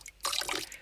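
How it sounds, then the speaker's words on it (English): A short sampled water sound for a drum kit, a quick splashy trickle that bursts in loud and fades after under a second, heard alone. "we're making it with water sounds that I've sampled over the years"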